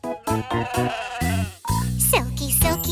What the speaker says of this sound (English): that is me, a sheep